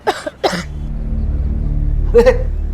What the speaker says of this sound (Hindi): भाभी जी को खांसी आई